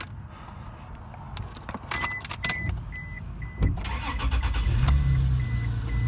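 A key jangles and turns in the ignition of an Isuzu Rodeo, followed by the engine cranking and catching into a steady idle, close by.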